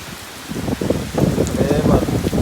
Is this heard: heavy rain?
yes